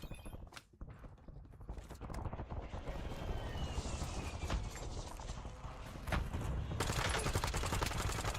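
Gunfire in Call of Duty Black Ops 7 rattles in scattered bursts amid busy game noise, growing denser and louder toward the end, with no talk.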